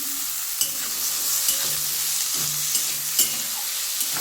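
Radish greens with potatoes fry in a pan with turmeric and salt while a spoon stirs them, a steady close sizzle broken by light scraping knocks of the spoon against the pan.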